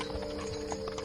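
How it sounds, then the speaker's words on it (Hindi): Several horse-drawn carriages draw near, their hooves clip-clopping in a steady, moderately loud rhythm against a constant background hum, with no talking. "वाह, 3 घोड़ा गाड़ी वाले, वो तो इधर ही आ रहे हैं।"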